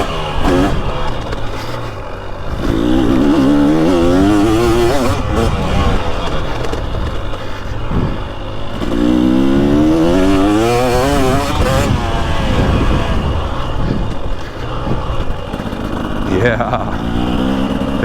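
A 2023 Husqvarna TX300 two-stroke motorcycle rides the Mid-Ohio Vintage Days moto track, its engine rising and falling in repeated revving sweeps. It stays loud and close, and a rider talks over it.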